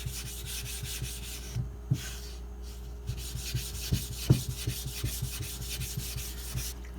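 Soft, steady rubbing of a blade on a Nubatama Bamboo 5000 grit whetstone, repeated quiet strokes with occasional light knocks, close and faint with no talk.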